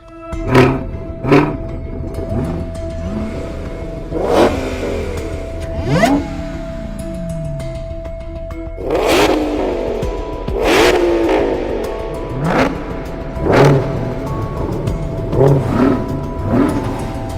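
Ford Mustang GT500 muscle car accelerating during a race test, a loud engine surging in repeated revving bursts with rising and falling pitch across the run, with no talk over it.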